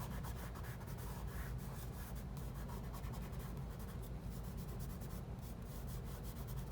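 Pencil shading on paper is smudged during a garlic drawing, heard as soft, continuous close rubbing strokes at low volume.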